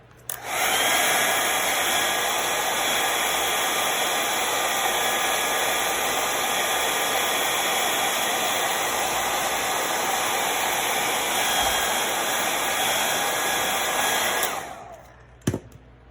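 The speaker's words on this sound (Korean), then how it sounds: "뒤쪽에서 뿌리기 전에 드라이기로 열을 좀 가해 주셔야 돼요" A hair dryer blows steadily for about fourteen seconds, heating a Galaxy S20 Plus back glass, a constant loud whooshing hum, then cuts off and is followed by a brief clunk.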